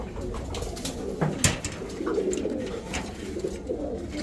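Pigeons at a bird sale centre coo faintly amid a steady hum of background noise, with scattered soft calls and no clear speech.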